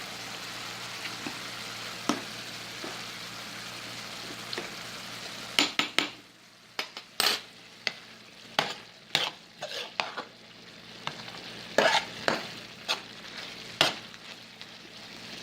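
A fork stirs spaghetti in a pot of boiling water, giving a soft bubbling wash that runs throughout, with scattered sharp clinks and scrapes against the pot that come in a dense cluster partway through.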